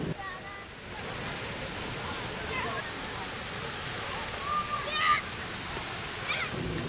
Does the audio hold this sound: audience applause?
no